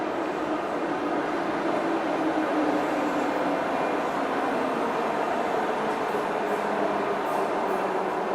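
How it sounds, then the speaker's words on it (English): An older Russian-made metro train in Sofia, Bulgaria, runs with a steady, loud droning roar of motors and wheels on the rails, holding even and continuous from start to end with no voices. "Let me show you the older metro trains we still have."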